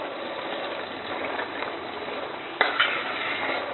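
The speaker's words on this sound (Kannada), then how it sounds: "ಸ್ವಲ್ಪ ತಿರುಗಿಸ್ಕೊಳ್ಳೋಣ." A spoon stirs mango gojju in a pan, a soft continuous scraping over a faint sizzle, with a sharper clink of utensil on the pan near the end.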